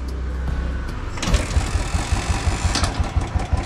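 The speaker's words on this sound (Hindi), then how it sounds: "स्टार्ट हो गई जी" A motorbike engine, running on a jump-started battery, turns over after a brief lull and catches into a steady, close, thumping idle with rapid regular pulses.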